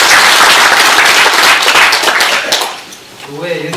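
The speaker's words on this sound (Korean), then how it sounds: "여러분 큰 박수 축하드립니다." Loud, dense applause from an audience at a Korean commemoration event honoring Ahn Jung-geun, fading out near the end as a voice begins speaking.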